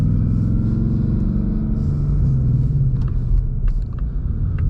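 A 2026 Ford Mustang GT with a manual gearbox and its exhaust in loud mode rumbles steadily from inside the car, a deep continuous engine drone with light clicks and knocks toward the end.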